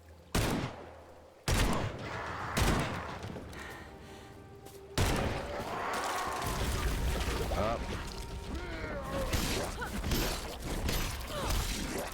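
Gunfire rings out in the Evil Dead video game: a few separate loud shots, then a dense, continuous burst of rapid fire lasting several seconds. Someone talks over part of it.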